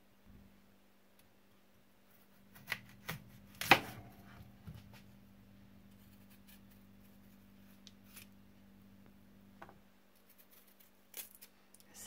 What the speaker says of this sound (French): je vais éplucher et je vais couper après en morceaux